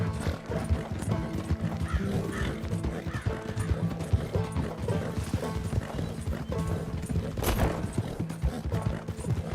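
Galloping horse hooves in Red Dead Redemption 2 pound in a fast, continuous clip-clop rhythm, with a whinny and gear rattle over a busy game soundscape, moderately loud throughout.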